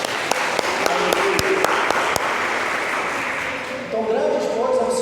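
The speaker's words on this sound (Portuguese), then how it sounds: "Você pode aplaudir o Senhor por isso?" A church congregation claps together in sustained, steady applause at a worship service, with a voice speaking over the clapping toward the end.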